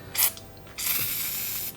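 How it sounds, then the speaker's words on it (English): Penetrating spray from an aerosol can hissing onto a 6.0 Powerstroke VGT turbo where the exhaust housing meets the center section, one short burst then a longer steady spray, close and alone. "Spray where the exhaust housing meets the center section."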